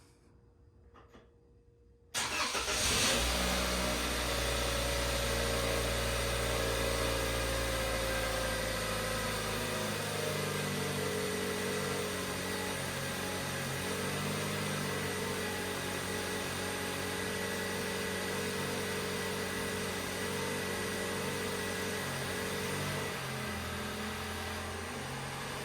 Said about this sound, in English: So when you start the engine up, it makes a lot of noise.